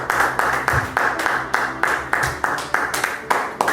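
A church congregation claps in rhythmic unison while acclaiming the Lord, steady regular handclaps of about three per second, loud and close, with voices faintly underneath.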